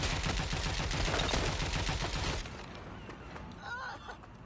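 Sustained automatic gunfire in Watch Dogs: Legion: a fast, loud, rapid volley of shots lasts a couple of seconds, then thins into scattered quieter shots, with a brief shout-like voice near the end.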